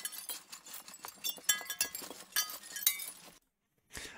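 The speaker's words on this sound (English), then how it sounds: "I'm going to use this sample of breaking glass for it." Breaking glass sample: a dense run of bright clinking and shattering shards, loud and close, in scattered bursts over several seconds, then a sudden stop to silence before a final brief tinkle.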